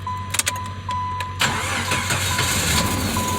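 A Jeep ZJ left sitting for five months cranks with a few quick ticks and clicks, then catches and settles into a steady, close idle rumble, with no talking.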